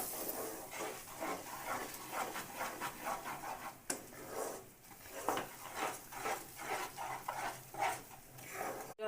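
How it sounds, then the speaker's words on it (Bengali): Besan laddu mixture stirred and scraped in a pan over low heat, a rhythmic rubbing and rasping of spoon against pan, close and fairly quiet, with no talking. "দিয়ে ভালো করে মিশিয়ে নিলাম"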